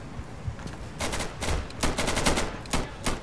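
Automatic gunfire in the video game Insurgency crackles in several sharp bursts, some rapid strings of shots and a few single cracks, fairly close and loud against a faint background.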